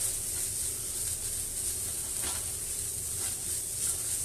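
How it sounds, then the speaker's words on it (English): Steady sizzling hiss of vegan fried rice being stirred in a hot, no-longer-non-stick pan, a continuous close frying texture with faint scrapes and no talking. "you just want to keep stirring it."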